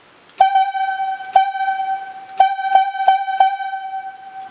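Highlead logging whistle sounds signal 2 and 1 plus 4 shorts: a steady reedy tone broken into blasts in uneven groups, loud and clear with no voices.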